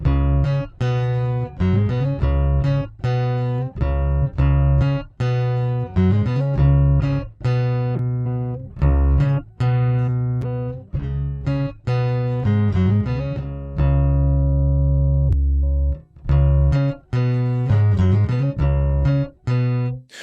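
Bass guitar played through an EarthQuaker Ricochet pitch shifter pedal set an octave above blended with the dry signal, heard as a busy riff of plucked notes with a doubled upper octave and one long sustained note, loud and alone.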